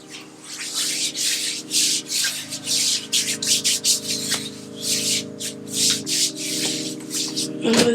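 Homemade body scrub rubbed onto skin at the neck during a shower routine, a steady close scratchy rubbing with rhythmic strokes over a constant low hum.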